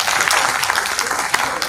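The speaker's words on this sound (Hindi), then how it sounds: "एक ताली पहले आप अपने लोग के लिए बजाइए।" An audience at a poets' gathering (kavi sammelan) at a health parliament event in Ayodhya claps in a steady, dense burst of applause, loud and close throughout, with no voices heard.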